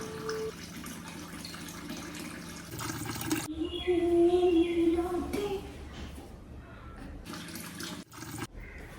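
Tap water runs into a container at a household sink, a steady, fairly quiet rush that swells in the middle and then tapers, amid soft room sounds.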